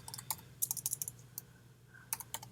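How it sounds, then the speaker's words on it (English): Someone types code on a computer keyboard in quick bursts of crisp key clicks. A short pause separates the bursts, and the typing is heard up close with no speech. "I'm typing this free form, so bear with me here"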